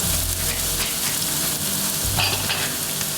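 Onions hitting a pan of garlic frying over low heat, giving a steady, close, crackling sizzle with some stirring, loud and continuous throughout with no talking.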